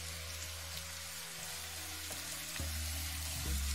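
Chopped onion and green chili fry in a pan for a smoky brinjal bharta, giving a soft, steady sizzle over a low hum, with a slight bump in the last second.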